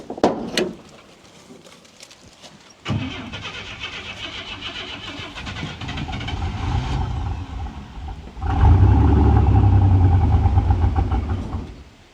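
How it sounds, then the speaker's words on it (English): A stalled engine on a car left mid-repair, with a suspected fuel-pump and camshaft-sensor fault, is cranked to start. It turns over loudly from about three seconds, then surges into a heavier, rougher roar near the end. "got you on there, we're going to crank back up"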